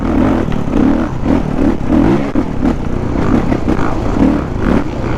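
A Kawasaki KX450F dirt bike rides through woods, its engine loud and close, rising and falling in repeated revs with clattering bursts as the throttle opens and closes.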